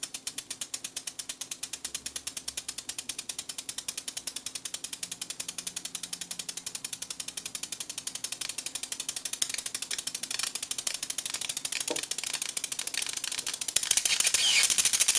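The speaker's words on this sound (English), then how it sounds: "No sparks yet. This sound from the movement of ions." High-voltage apparatus giving off a rapid, steady buzzing crackle from ion movement before any sparks form, loud and continuous for the whole stretch, growing slightly harsher toward the end.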